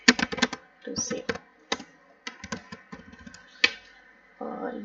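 Keys tapped on a computer keyboard while entering text during an Android app development lesson, coming in quick bursts of clicks with short pauses between them, close and clear.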